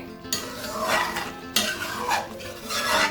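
Chicken sautéing in a pan for white karahi, with a spatula scraping and stirring against the metal in repeated strokes over a steady background sizzle, close and fairly loud.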